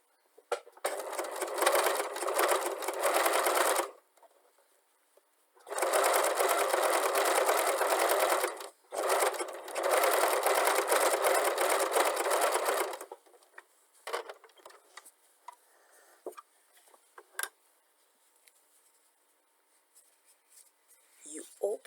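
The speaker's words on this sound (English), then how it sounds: "you do a straight stitch all along here, all along the edge, some millimeters away from the edge" A sewing machine runs a straight stitch along the edge of multicolored patchwork fabric strips for a pouch. It whirs loud and close in three long bursts with short pauses, then gives way to scattered clicks and fabric handling.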